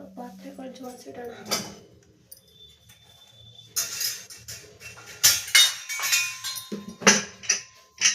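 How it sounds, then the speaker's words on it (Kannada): Kitchen vessels and dishes being arranged, giving scattered clinks and clatters of metal and crockery in irregular bursts, louder toward the end, with talk in the background. "ಸ್ವಲ್ಪ ಪಾತ್ರೆಗಳು ಜೋಡಿಸಿಡೋಣ."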